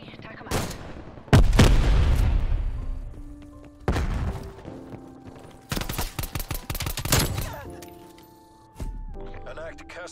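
Heavy ZRG 20mm sniper rifle shots in Call of Duty Cold War, several loud booming reports with long decaying tails spaced across the moment, mixed with other game effects and music tones.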